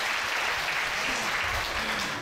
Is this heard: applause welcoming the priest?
yes